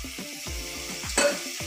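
Tomatoes fry in a pan for an aloo, brinjal and moong dal curry, with steady stirring and sizzling throughout and a brief brighter scrape near the end.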